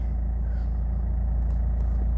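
A 2019 Mitsubishi Montero Sport engine idling with a steady, close low rumble and no talk, the check engine light on.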